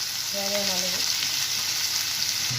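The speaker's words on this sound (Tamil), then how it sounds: "வெங்காயம் நல்லா ப்ரௌனிஷாக வதக்கி வதக்கிக்கலாம்" Sliced onions sizzling loudly in hot oil with cinnamon and cloves for a crab curry, a dense continuous crackle close by, with a short faint tonal voice-like sound early on.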